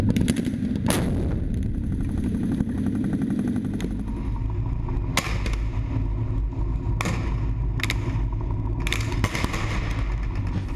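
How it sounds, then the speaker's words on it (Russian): Tank cannon fire on positions in a shopping centre in Jobar, Syria: several loud sharp blasts spaced a second or two apart over a constant heavy engine rumble, with no voices. "Третий танк занимает место слева, вслед за первым экипажем и работает по позициям в торговом центре."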